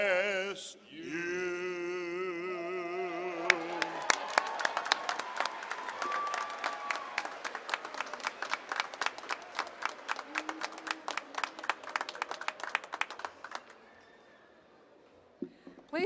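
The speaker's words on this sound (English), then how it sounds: "giving this outstanding group of graduates one more round of applause" Graduates and audience at a summer afternoon university commencement for an IT program break into sustained applause, dense rapid clapping from a large crowd in a hall that swells, holds for several seconds, then tapers off.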